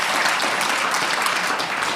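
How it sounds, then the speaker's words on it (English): A crowd claps for a person who has just come up to the front of a livestreamed talk about young adults and ALS. The applause is loud, dense and sustained, and no voices sound over it. "let's hear a big round of applause for Dan for getting up here"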